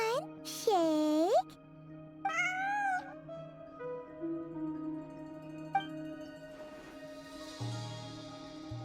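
Cat meowing in the video game Genshin Impact: two long, rising-and-falling meows, the first loud, the second a little softer, followed by faint game ambience and a later low hum.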